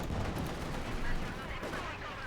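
Gunfire in the real-time strategy game Company of Heroes 2 fills the clip as a dense, continuous rattle of shots and explosions, with a commentator's voice faintly woven through.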